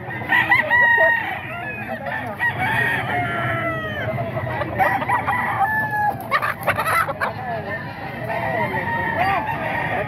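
Roosters crow repeatedly and hens cluck at a gamefowl sale at the Grotto, several birds calling close by and overlapping over a busy farmyard background, with people talking in between.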